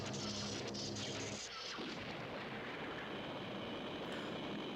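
An explosion from the TV series Space: 1999, a dense roaring blast with rumbling low end that continues as a sustained loud wash of noise for several seconds.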